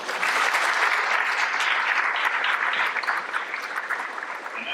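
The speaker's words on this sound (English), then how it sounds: "Let's give our Rangers a more round of applause." An audience at a school board recognition ceremony applauds, a dense, loud, steady patter of many hands clapping that holds for several seconds and then slowly thins near the end.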